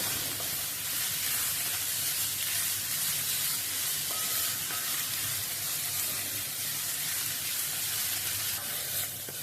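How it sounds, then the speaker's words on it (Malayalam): Ginger sizzling steadily as it is stirred and sautéed in a pan for Onam sadya inji curry, a continuous close frying hiss with a faint scrape of the spoon, no talking. "അതുവരെ ഇങ്ങനെ നമ്മൾ ഇളക്കിക്കൊണ്ടിരിക്കുക നല്ലോണം വഴന്നു വരണം"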